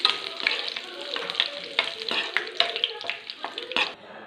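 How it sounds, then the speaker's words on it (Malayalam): Curry leaves frying in hot oil, a close, steady sizzle and crackle with quick spatters and the scrape of a ladle stirring through the pan. "ഈ കറിവേപ്പിലയും കൂടെ വറുത്ത് വന്നിട്ട് ഇത് മുകളിലേക്ക് കോരിയിടാം"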